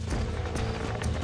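Horse hooves clip-clop in a rapid running rhythm with rustling movement in the Western video game Red Dead Redemption, steady and close over a dense background.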